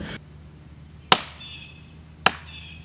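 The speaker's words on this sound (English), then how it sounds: "We tried some wood knocking to rile up the Grassman." Two sharp, hollow wooden knocks about a second apart, struck in the woods at Salt Fork State Park, Ohio, ringing out over a quiet outdoor background with a faint low hum.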